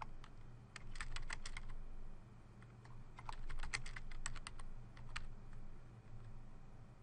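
Steady clicking of keys on a computer keyboard while entering patient notes into a pediatric electronic health record, in irregular bursts of quick taps with short pauses, close and fairly quiet over a low background hum.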